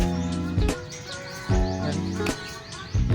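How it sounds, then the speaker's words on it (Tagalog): Pet breeder pigeons in a loft chirp and coo in quick repeated bursts, close and fairly loud, with a steady hum beneath. "mag-update muna tayo dito sa mga alaga nating kalapati guys"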